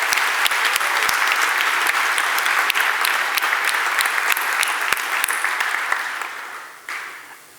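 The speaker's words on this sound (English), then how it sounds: "Give them a huge amount of applause." At the opening keynote of a software developer conference, a large audience claps loudly and continuously, with a few sharp individual claps standing out, before the applause tapers off near the end.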